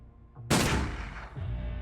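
A single loud gunshot in the turn-based tactics game Urban Strife, fired as an aimed headshot, with a sharp crack and a lingering decay, followed by a softer thud near the end.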